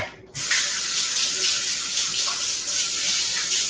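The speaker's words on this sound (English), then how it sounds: "let me just rinse my hands real quick" Hands are rinsed under a running kitchen tap: water gushes steadily and close for several seconds after a short quiet start, with no talking.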